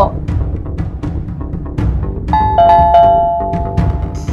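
A doorbell rings with bright chiming tones partway through, heard over rumbling background noise and faint voices.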